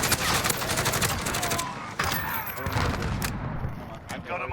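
Rapid bursts of AK-47 automatic fire in Modern Warfare multiplayer, close and loud, crackling in fast rhythmic volleys with short pauses between them.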